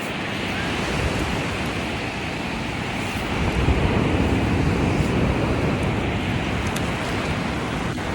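Ocean waves at Nacpan beach roll in with a continuous broadband roar of surf and wind buffeting the microphone, steady and loud throughout with no clear voices.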